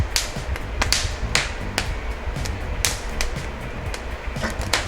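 Meatballs crackling and popping over a hot fire, sharp irregular snaps over a steady sizzle, close and fairly loud.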